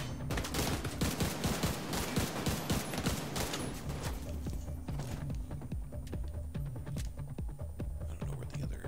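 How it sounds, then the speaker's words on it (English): Rapid bursts of gunfire in the video game The Division 2 crackle in dense volleys, loud at first and thinning out toward the end, with scattered single shots. "I don't know where the other gunfire is coming from."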